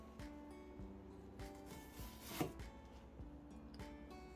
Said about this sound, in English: Now you're going to start dicing.